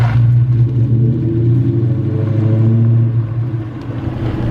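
A Terminator Cobra car pulls away with a loud, deep, steady engine rumble close by, and no talk.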